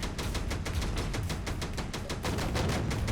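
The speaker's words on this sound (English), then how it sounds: "Ah, the sound of gunfire. Pretty standard, the sound of gunfire." Rapid bursts of gunfire crackle in a steady, dense rhythm, loud and continuous, like automatic weapons firing in a video game.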